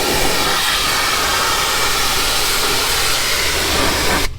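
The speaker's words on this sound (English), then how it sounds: "Start with the pressure washer outside of the vehicle like so" A pressure washer sprays the rear hatch jamb of a Lexus during mildew removal and detailing. The spray is a loud, steady, close hiss that runs unbroken and then cuts off abruptly at the end.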